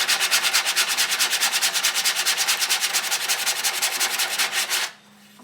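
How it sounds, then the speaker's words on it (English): A big angle grinder with a 7-inch zirconia disc contours the wooden frame of a permanent stagecoach passenger seat. It makes a loud, close, steadily pulsing abrasive grind that stops abruptly near the end. "these are the 7-inch discs that I use on my big angle grinder, and these are also zirconia"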